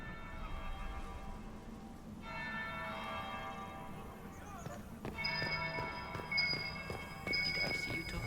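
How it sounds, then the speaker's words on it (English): In a Dragon Age Inquisition game scene, a church bell rings with lingering harmonic tones amid a murmuring crowd ambience, followed by brighter repeated chime strikes toward the end. "That would be the second bell."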